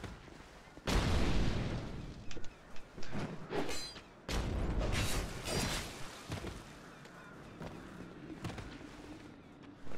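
Fire bombs explode in Dark Souls 2, a series of sharp, booming bursts, several close together, separated by quieter stretches of game ambience.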